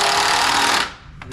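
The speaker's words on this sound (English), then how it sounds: "And I'll run me a screw through here." A power drill drives a screw into the wooden frame of a homemade garden box, whining steadily for under a second before cutting off, followed by a couple of brief clicks.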